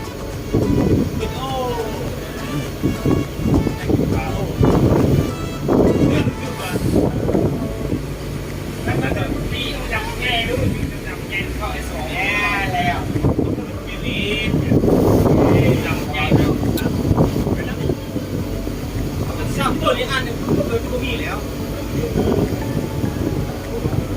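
Strong wind on a boat travelling down the Mekong river in Laos as a storm comes in: a steady roar of wind buffeting the microphone, with engine and water noise beneath and someone talking over it throughout.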